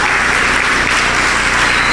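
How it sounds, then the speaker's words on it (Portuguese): A church congregation applauds to welcome pastor Davi Lago at a conference, producing a steady, dense wash of clapping that holds at full strength without pause. "Queria que você recebesse o pastor Davi com um aplauso ao Senhor."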